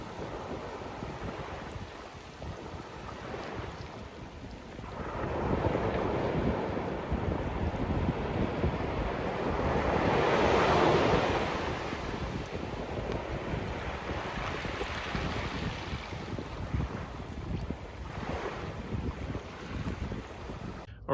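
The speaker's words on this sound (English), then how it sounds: "you got the sounds of the ocean through the night" Atlantic surf rolls in at Fort Macon State Park, Atlantic Beach, North Carolina, steady ocean waves washing ashore with a broad swell near the middle, mixed with some wind buffeting and no talking.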